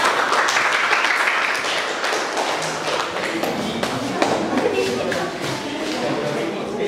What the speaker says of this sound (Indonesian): Beri aplaus kelompok 3